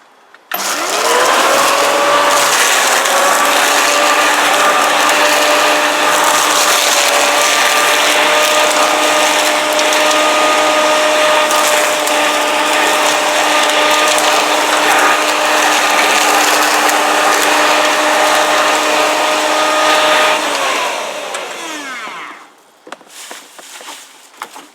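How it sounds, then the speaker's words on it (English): A lawn mower chopping garden waste for compost runs loud and steady with a constant whirring drone for about twenty seconds, then winds down and stops. "we're going to get the mower"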